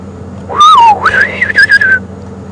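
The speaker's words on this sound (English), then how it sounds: "There, you can hear the fiery-necked nightjar." A fiery-necked nightjar gives a short, clear whistled call of rising and falling slurred notes during an evening safari drive at Djuma Game Reserve. The call is loud and near, over a low idling engine hum.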